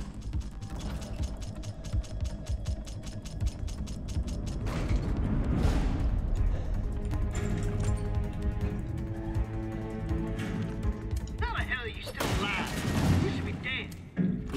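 Gunfire in the video game Resident Evil 7, with a rapid run of shots early on, then heavy booming and rumbling, and more bursts toward the end, mixed with game sound effects.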